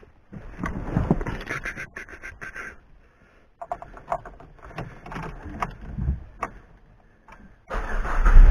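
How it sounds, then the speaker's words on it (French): A Peugeot 206 S16 engine struggles to start cold on ethanol: repeated cranking bursts with pauses between them, then a louder catch as it fires near the end, close and without speech. "un peu de mal à démarrer parce que à froid avec l'éthanol"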